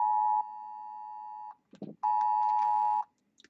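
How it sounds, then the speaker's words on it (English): A phone sounds an emergency Amber Alert as a loud, steady electronic tone in two long sustained bursts separated by a short gap, with brief handling noise between them and no talking. "Oh, it's a emergency alert, Amber Alert."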